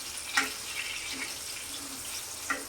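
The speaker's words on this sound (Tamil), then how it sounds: "இந்த மாதிரி நல்லா ஃப்ரை ஆகணும்." Brinjal (eggplant) pieces frying in oil for Tamil vatha kuzhambu make a soft, steady sizzle with a few sharper pops, heard faintly up close.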